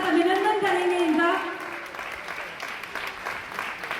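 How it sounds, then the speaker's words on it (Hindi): Audience applauds a Padma Shri singer at the Shri Shankar Shambhu Memorial Award 2025 ceremony, clapping that swells after a voice fades out, then continues at moderate level. "हम जोरदार तालियों के साथ अभिनंदन करेंगे इनका।"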